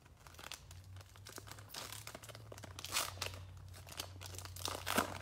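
Plastic cello wrap on a Panini Prizm football trading card box is cut open, giving close, irregular crinkling and crackling bursts of varying loudness.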